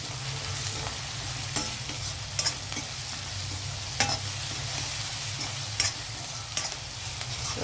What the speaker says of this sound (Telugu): ఉల్లిపాయలు కొంచెం వేగాయి కదండి